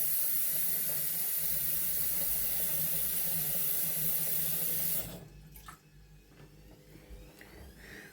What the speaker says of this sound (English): I'm just going to top this up with some tap water.